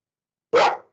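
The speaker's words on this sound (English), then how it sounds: "Sorry, this is my dog now." A single dog bark rings out close by in an otherwise quiet room during a remote committee meeting, one sharp burst that fades quickly.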